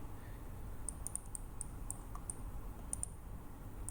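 A computer mouse clicks several times in a quiet room during software work, sharp light ticks in small irregular clusters with a faint steady hum beneath.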